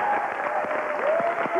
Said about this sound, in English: We'd like to bring them out and give them a big round of applause.